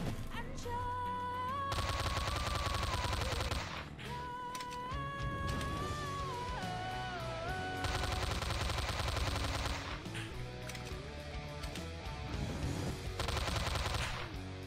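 Rapid automatic gunfire in Slendytubbies 3, coming in long sustained bursts broken by short pauses, with a background music track playing throughout.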